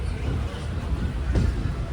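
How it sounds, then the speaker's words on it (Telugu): A passenger train on the SMVT Bengaluru to Murdeshwar run rumbles steadily from inside the coach, with one louder clunk partway through. "సో ఇప్పుడైతే మన ట్రైన్ అయితే స్టార్ట్ అయిపోయింది"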